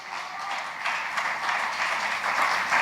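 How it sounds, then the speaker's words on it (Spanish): A church congregation claps during a Spanish-language sermon, a brief steady patter of hands rising slightly in loudness over about three seconds. "Denle un aplauso al Señor por eso"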